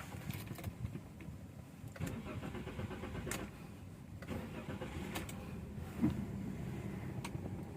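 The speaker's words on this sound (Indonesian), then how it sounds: "Nah sekarang kita starter aja." A Toyota Avanza engine is cranked by its starter for a long stretch after the fuel line was disconnected, whirring steadily with repeated sharp clicks before settling toward idle, recorded close by in a quiet setting.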